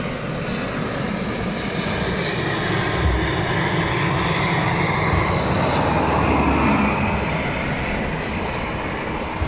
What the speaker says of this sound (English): See the propellers on this one as it comes in.